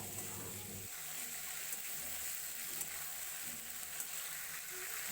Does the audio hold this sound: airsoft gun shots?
no